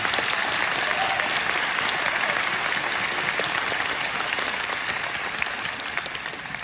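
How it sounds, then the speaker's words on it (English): A large audience breaks into steady applause, a dense, continuous roar of clapping hands that holds at an even level for several seconds without any talk over it. "We could probably give them a round of applause right now."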